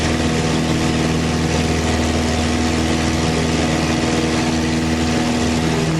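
A small airplane's engine runs up steadily under slow throttle for takeoff on a cold day, a loud continuous droning hum with no pauses or voices.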